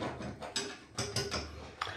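Metal rotisserie shaft being tightened inside an air fryer oven, several short sharp ratcheting clicks and clunks spaced irregularly, close by, with no talk.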